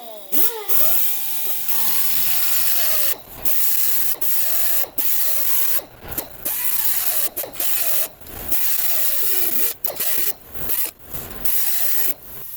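Angle grinder cutoff wheel cutting a groove during a Mazda 5 wheel bearing replacement, loud, close, rising and falling whine in repeated bursts broken by short pauses.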